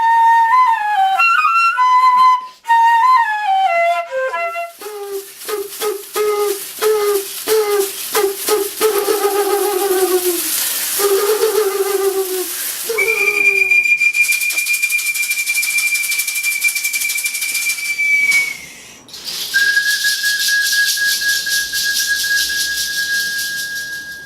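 Pre-Columbian Andean whistling vessels, made to imitate animal voices, sound a run of loud, clear tones. Short repeated hoots and chirps come first, then two long steady high whistles, heard alone with no talk.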